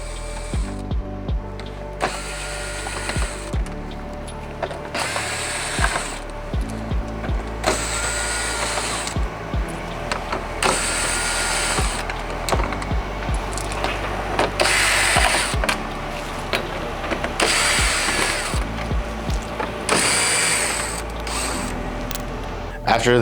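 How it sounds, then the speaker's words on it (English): A T30 Torx bit on a ratchet backs out bolts from a BMW G8X bumper in repeated bursts of fast ratcheting clicks, loud and close, separated by brief pauses and handling noise. "Torx bolts, which are going to be removed with a T30 bit"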